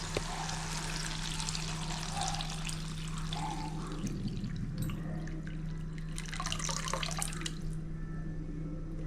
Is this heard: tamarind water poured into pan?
yes